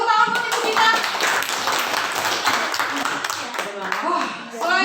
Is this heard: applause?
yes